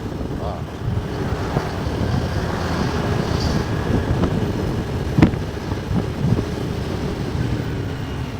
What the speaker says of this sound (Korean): 바람 소리 여러분들도 들리시나요?